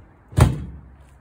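A single dull thud as the door of an electric smoker is shut, close and brief with a quick decay into quiet.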